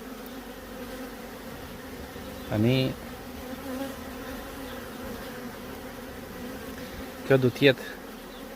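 A large honeybee swarm hums as a steady, moderately close drone throughout, with two brief louder buzzes of bees passing near and a few quiet spoken words.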